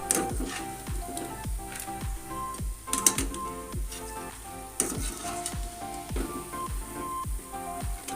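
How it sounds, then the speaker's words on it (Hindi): Onion pakoras deep frying in hot oil, a steady hiss and crackle running through the whole stretch beneath a louder, thumping musical beat. "अब इस तरह हम सारे इसको तल देंगे, सारे पकौड़े फ्राई करेंगे"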